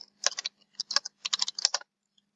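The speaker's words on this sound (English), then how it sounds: "So you can simply type it in the student comment section right here." Rapid typing on a computer keyboard: close, crisp bursts of keystrokes in uneven clusters with short pauses between, heard alone with no talk.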